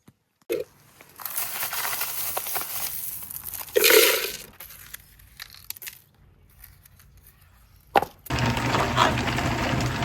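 Polished green serpentine stones are tipped back into a vibratory tumbler barrel, giving clattering, crunching bursts of stone on stone that come in a few loud clusters with quieter shuffling between them, close and without talk.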